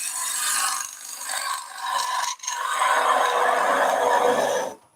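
A bowl gouge cuts wood on a lathe, removing waste from a turned bowl with a steady rasping, scraping hiss that briefly dips, then runs on loud and close before stopping abruptly.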